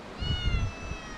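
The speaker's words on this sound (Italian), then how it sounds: "C'è questo gatto che sta miagolando da una mezz'ora." A stray cat up a tree near an abandoned, war-damaged resort gives one clear, drawn-out meow with a wavering, rising-then-falling pitch, fairly close and alone without speech.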